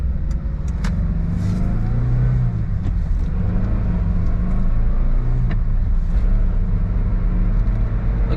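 A Daihatsu Terios with all-wheel drive drives along a road, giving a steady, loud engine and tire rumble with road noise that holds constant throughout, with no talking.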